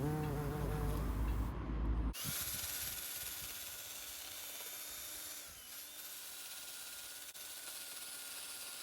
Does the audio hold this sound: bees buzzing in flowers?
yes